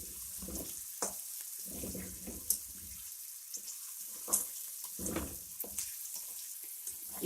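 Boneless chicken frying in oil for a quick handi, a steady sizzle throughout with periodic louder scraping and stirring bursts from a spoon against the pot, close and continuous.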